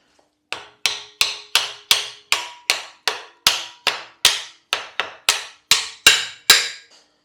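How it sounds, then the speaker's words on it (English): A hammer taps a Lambretta SST265 rear brake part in a garage, about fifteen sharp metallic strikes at a steady, even rhythm, each ringing briefly before the next, close and clear with no talking. "I might have to give it a bit of a tap"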